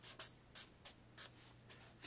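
Pen strokes of handwritten notes on the Anti-Federalists, a series of short, crisp scratchy bursts in an irregular rhythm, close and fairly quiet, with no talking.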